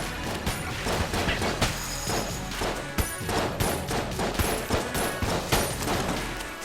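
Rapid, dense gunfire from the video game Enter the Gungeon, with volleys of shots and crashing impacts packed together nonstop, loud and close.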